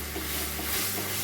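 Boiled tadka dal with a little water stirred in a pan, a brief, continuous, soft wet scraping with faint sizzle, close and steady.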